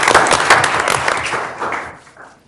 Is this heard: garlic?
no